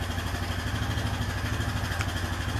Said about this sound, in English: let the engine warm up a little bit.